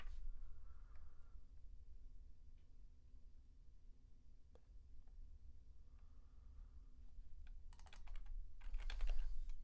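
Light typing on a computer keyboard, soft scattered keystrokes in a quiet room that quicken into a brisk clattering burst near the end, with no talking.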